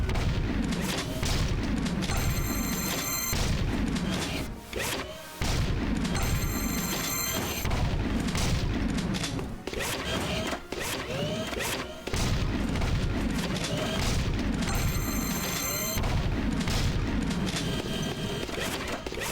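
Rapid bursts of gunfire and booming blasts from the video game Jak II, during a timed shooting course, loud and nearly continuous with brief pauses, mixed with ringing electronic game effects.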